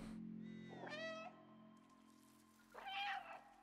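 A cat meows twice in the video game Stray, one harmonic call near the start and another toward the end, clear and close over a low steady game-music hum.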